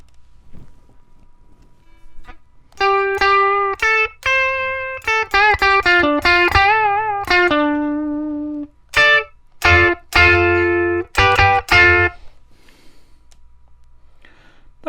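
An electric guitar plays through a Positive Grid Spark amp set to a clean Fender Deluxe Reverb model, with sustained single notes and short bends followed by choppy strummed chords and brief pauses.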